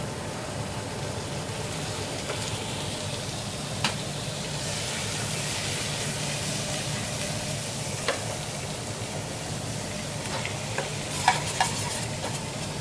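Sesame oil in a pan, alongside garlic confit and a marbled beef and green asparagus stew, gives off a steady, moderate hiss of sizzling with occasional faint ticks and a sharper pop near the end, with no talk.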